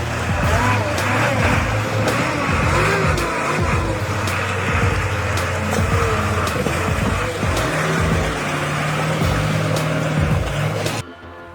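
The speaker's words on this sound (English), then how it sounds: "The Ural 6x6 timber monster lives up to its name, powering through every terrain with its raw strength." Ural 6x6 timber truck driving, a loud continuous engine drone with shifting low rumble and rising and falling pitch that holds steady, then cuts off abruptly near the end.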